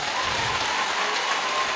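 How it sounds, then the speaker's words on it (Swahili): A congregation at an archbishop's ordination ceremony applauds in a steady, dense wash of clapping that sounds almost like heavy rain and holds evenly, with no talking. "hurira Joe Nyoto makofi mega"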